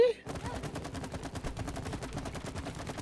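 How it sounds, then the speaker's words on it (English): Gunfire in the It Takes Two video game, with rapid, evenly spaced shots in a fast continuous burst, loud and close, starting just after a brief cut-off sound. "Can you see this grass over here that I'm shooting?"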